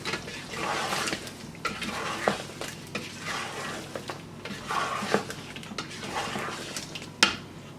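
Chicken is stirred with almond paste in a metal pot, a utensil scraping and clinking repeatedly against the sides in an uneven rhythm over a soft sizzle, close and alone.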